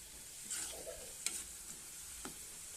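Okra fries in a pan with a quiet, faint sizzle and a few light stirring scrapes and taps.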